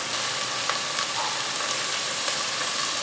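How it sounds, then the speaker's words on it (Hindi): Chopped onions frying in oil in a pan for rice, a steady close sizzle with faint crackles throughout, no voices. "तो हमने प्याज शामिल की, इसको 2 से 3 मिनट फ्राई करना है।"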